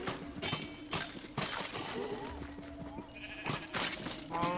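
Sheep bleating in the Minecraft Dungeons video game, several short wavering calls rising over busy game music and effects, with a voice talking now and then.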